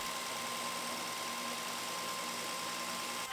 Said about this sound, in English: This time, I'm using my combo sander for the outside edges and then for the inside radius